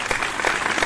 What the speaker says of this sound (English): Do I get applause for that?